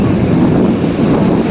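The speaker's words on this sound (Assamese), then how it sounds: "বতাহ বলি আছে তাতে।" Gusting wind buffets the microphone by the sea, a steady loud rumble with a faint wash of surf beneath, no voices.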